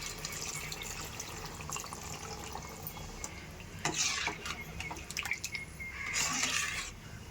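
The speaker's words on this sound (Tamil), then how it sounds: "இப்போ தண்ணி ஊற்றிக்கலாம்." Water is poured into a pot of chicken curry cooking at home, giving a soft splashing and trickling that comes in two brief louder bursts over a quiet kitchen background.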